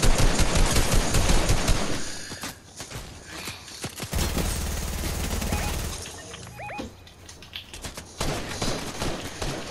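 Automatic gunfire in Fortnite, several quick bursts of shots ringing out near and loud with pauses between them, alongside other in-game noise.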